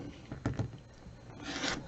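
Rotary cutter or scissors trimming sewn quilt fabric along a diagonal seam line, a few soft close scraping and rubbing strokes against a cutting surface, quiet and brief.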